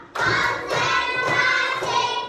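A class does a rhythmic clapping routine, 'tepuk siap belajar', with four evenly spaced, loud clap bursts over a sustained, ringing tone, close to the microphone.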